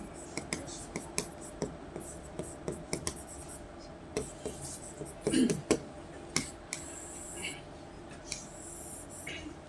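Chalk or marker taps and scratches on a classroom board as a teacher writes a word, a series of quick, close strokes with a denser scribbled burst midway, under faint whispering.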